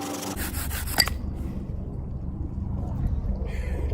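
A bow drill spindle spins against a wooden board in a friction-fire setup, giving a continuous, close rubbing and grinding scrape with one brief sharp knock.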